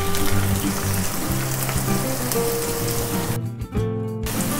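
Finely chopped onion frying in ghee with cumin for chicken do pyaza, a constant close sizzle with a steady hum underneath and a brief dip near the end.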